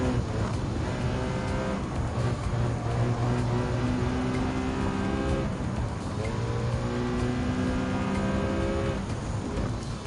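Racing car engines in Gran Turismo 7, including a 2006 Dodge Viper SRT10 Coupe, rev and shift through gears in rising whines, loud and continuous with brief tire noise.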